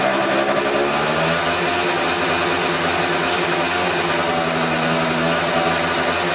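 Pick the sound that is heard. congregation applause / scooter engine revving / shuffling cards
scooter engine revving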